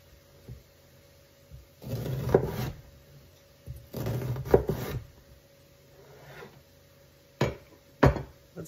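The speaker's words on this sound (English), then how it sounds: "We have ourselves a sweet onion. Cut it this way." A knife cuts through a sweet onion on a wooden board, with several separate rasping, scraping strokes of about a second each and a few sharp taps. All are close and fairly quiet, with no talking.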